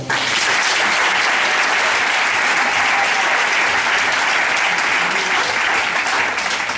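A church congregation breaks into loud, sustained applause acclaiming the Lord, a dense wash of many hands clapping steadily throughout with no break.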